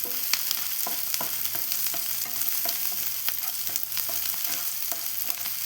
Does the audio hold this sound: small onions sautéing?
yes